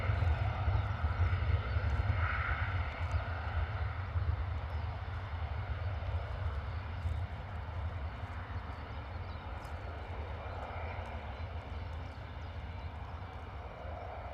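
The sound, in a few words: EasyJet airliner departing Bristol Airport, climbing out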